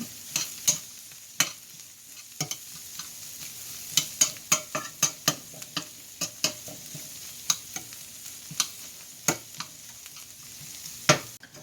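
Chopped garlic, a single large clove, cooks in a pan for quinoa fried rice with a soft sizzle, broken by a steady run of sharp utensil clicks and scrapes against the pan, close and fairly loud with no talk.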